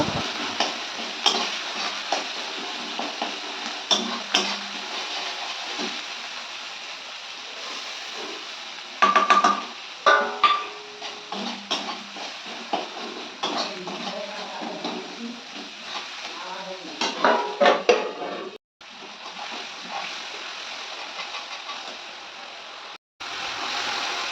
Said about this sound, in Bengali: বাকি তেলের মধ্যে দিয়ে দিলাম টমেটো বাটা আর এটাকে ভালোভাবে ভেজে নেব